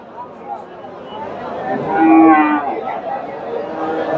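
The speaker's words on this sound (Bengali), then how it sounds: "দর্শক খামার উপযোগী গরু" At the Dhaper Hat cattle market in Bogura, where Friesian cattle are sold, one short moo rises midway over murmuring voices and low crowd noise.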